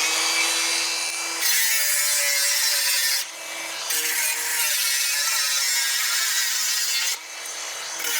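A power tool cuts through a metal part in a workshop during a 1976 Toyota FJ40 Land Cruiser restoration, a loud harsh grinding whine in long bursts with brief pauses between, close up and with no talking.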